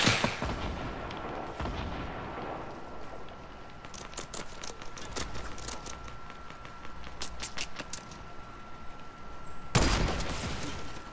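Rapid bursts of Fortnite gunfire crackle in clustered volleys, loud and close, with a heavier blast near the end and no talking.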